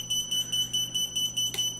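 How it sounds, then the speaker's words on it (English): A Lizard95 quadcopter's beeper sounding a rapid series of shrill, evenly spaced electronic beeps, loud and close, repeating about eight times in under two seconds. "I have a switch set up for the beeper if I want to turn the beeper on."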